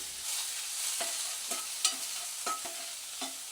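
Garlic, ginger, onions and green chillies frying in ghee give a steady close sizzle, broken by a few soft stirring scrapes, with no talking.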